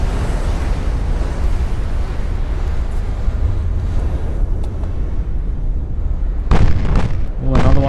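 A warship explodes in Ultimate Admiral: Dreadnoughts with a continuous, loud, rumbling roar of blasts and naval gunfire, then a few sharper bangs near the end.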